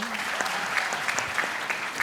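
Audience at an entrepreneurship program event in Ahmedabad applauding chief guest Arbaaz Khan, a steady wash of many hands clapping throughout, fairly close and even in loudness.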